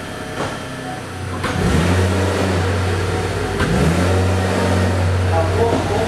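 A car engine on an electronic throttle is started and then revved under pedal load while a scan tool reads it. A steady mid-pitched hum rises into a louder, sustained rev that holds for several seconds.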